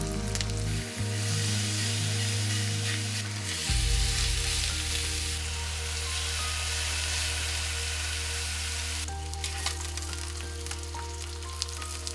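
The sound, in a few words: pork belly frying in a pan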